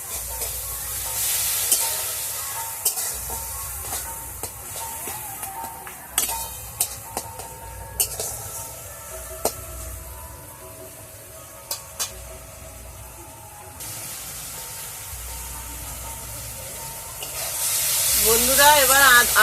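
Ginger paste sizzles and hisses softly in a hot pan for a Bengali banana stem curry with coconut milk, with intermittent clinks of stirring and a louder burst of frying near the end.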